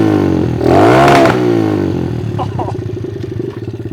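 A repaired pit bike engine revs near and loud, its pitch rising and falling through a couple of throttle blips before settling into a choppy idle, with a brief spoken exclamation.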